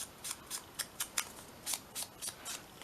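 Scissors snip through paper in about ten quick, crisp cuts at an even rhythm, close and clear with no voices.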